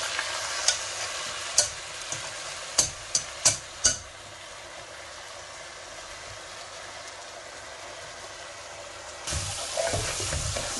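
Washed rice frying in a pan with onion, garlic, cinnamon and cardamom: several sharp clatters of stirring early over a steady low sizzle, which grows louder near the end.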